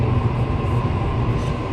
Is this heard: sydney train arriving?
yes